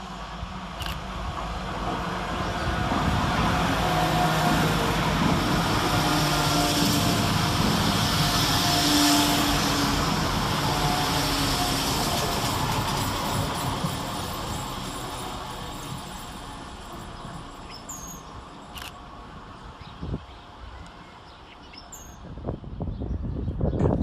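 A broad, steady engine rumble swells and slowly fades as a diesel multiple unit train passes through a station without stopping, with faint birdsong and a few clicks near the end.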